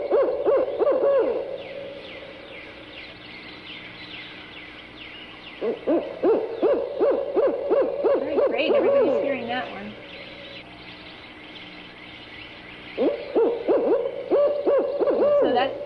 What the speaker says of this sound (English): I'll play it again just in case.